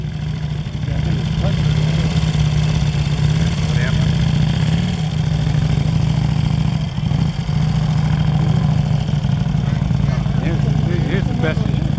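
A 1938 Triumph twin-cylinder motorcycle idles steadily at a concours show, a continuous low engine drone lasting throughout, with faint voices and crowd noise in the background.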